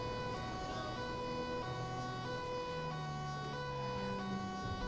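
Police car siren, an Audi in GTA 5 with LSPDFR, wails continuously for several seconds with steady tonal layers over engine and road noise, loud and close.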